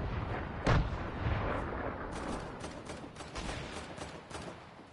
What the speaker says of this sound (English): who's throwing some grenade?